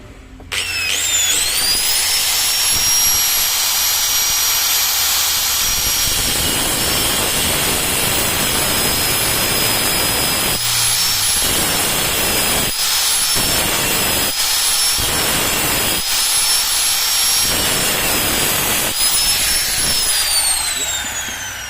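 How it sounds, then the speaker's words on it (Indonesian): An angle grinder cuts a notch in metal during a bearing press job, a loud sustained high whine that dips briefly several times as the disc bites and lifts, close and continuous. "di sini saya pakai gerinda nih, ini untuk bikin coakan di sini ya"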